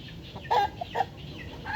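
A fighting rooster gives a few short, close clucks over quiet background noise.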